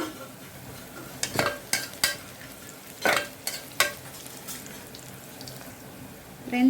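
Onions and green chilies sautéing in a pan for mutton biryani: a soft sizzle under a scattered series of sharp spatula clinks and scrapes against the pan, fairly close, with no talking.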